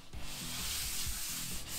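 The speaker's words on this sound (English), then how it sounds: "so you want to give it a good sanding" Sandpaper rubbed steadily back and forth over a plastic Rat Fink slot car racing track, a continuous gritty scraping with rhythmic strokes, close and fairly loud with no talking.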